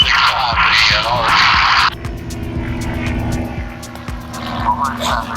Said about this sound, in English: The plane taking off.